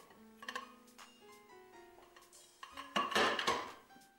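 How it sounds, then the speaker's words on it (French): A plate is set onto a chocolate flan mould and the two are flipped over, giving a series of close ceramic and metal clinks and knocks, then a louder burst of clattering and scraping. "prenez votre assiette, mettez-la dessus et retournez-le"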